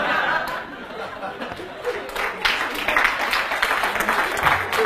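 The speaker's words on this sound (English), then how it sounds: "Those of you who are clapping" Audience clapping at a venture capital and angel investing Q&A session, steady scattered applause mixed with some chuckles and crowd chatter.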